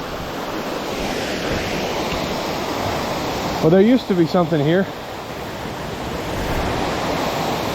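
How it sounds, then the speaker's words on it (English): Holcomb Creek Falls roars as a steady, broad wash of falling water throughout, with a voice speaking briefly over it midway. "But here's the waterfall. Holcomb Creek Falls."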